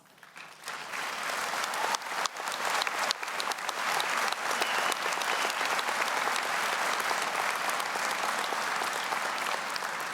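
Applause from a commencement crowd for community college graduates swells in over the first couple of seconds, then holds as a thick, sustained roar of clapping, somewhat distant and with no speech over it.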